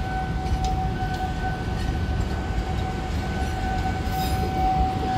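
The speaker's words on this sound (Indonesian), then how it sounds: "Kereta api Jayabaya dengan kelas eksekutif dan ekonomi." The Jayabaya passenger train, with executive and economy classes, rumbles steadily at a busy Jakarta station, a constant wash of rail noise under a sustained tonal whine.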